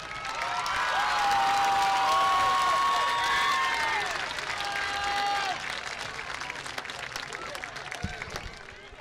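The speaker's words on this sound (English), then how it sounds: "Let's give them a round of applause." A stadium crowd at a high school football game applauds the homecoming court at halftime, broad distant clapping and cheering that swells then gradually thins, with a sustained whistle-like tone over the top early on.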